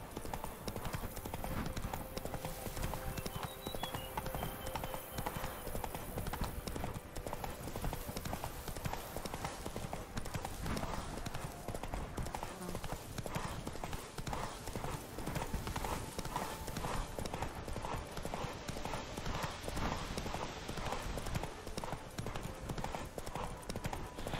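Horse hooves clip-clop steadily and continuously in The Witcher 3: Blood and Wine, with an occasional whinny, moderately loud over a dense game soundscape.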